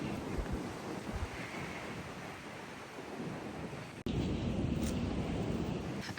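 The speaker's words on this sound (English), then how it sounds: "The wind is what's making me chilly." Strong wind gusts across a hiking trail in Shenandoah National Park, buffeting the microphone with a loud, rumbling roar that swells and dips, then surges abruptly after a brief dropout.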